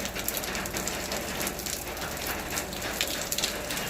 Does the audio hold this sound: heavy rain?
yes